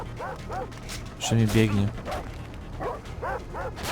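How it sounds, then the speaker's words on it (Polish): A dog in the video game Far Cry 3 gives several short yipping barks and whimpers at moderate distance, mixed with game noise while someone talks over it. "Pies jakiś leci."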